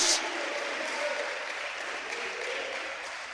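A church congregation claps steadily in a broad wash of applause during a service, sustained and even for a few seconds, with no clear voices rising above it.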